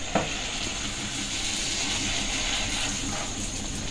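Fuchka puris frying in hot oil, a dense, continuous close sizzle and crackle that holds steady throughout with a small pop near the start.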